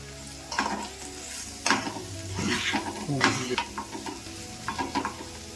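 Fried okra stirred into ground masala in a hot pan, a steady close sizzle with repeated scraping stirs and light metallic clinks against the pan, no speech.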